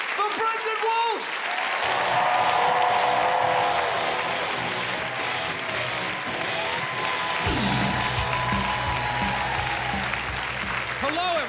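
A comedy club audience applauds steadily for a comedian, a dense wash of clapping that holds through the whole stretch while a voice talks over it and music or hum sits underneath.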